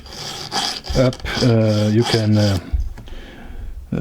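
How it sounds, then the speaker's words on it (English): A small round file sharpening a chainsaw chain produces a few short rasping strokes in quick succession, with someone talking over and between them. "touch it up with such a small file"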